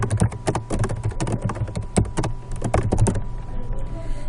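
Steady typing on a computer keyboard, quick clicky keystrokes in uneven bursts up close, going on for about three seconds before thinning out into quieter clatter.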